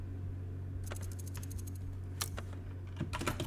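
Keyboard typing during a typing game session, heard as a quick burst of light key clicks followed by scattered taps over a low steady hum, fairly quiet and close.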